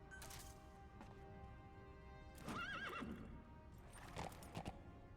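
Horse neighs and whinnies mixed with clip-clopping hooves from D-Horse in the game Metal Gear Solid V, in two loud bursts over a steady game background with no talking.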